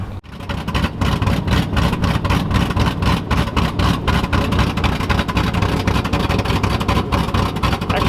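Third-generation Chevrolet Camaro IROC-Z V8 idling close up, a loud, deep, rumbling engine note with a rapid, regular pulsing throb and no talking.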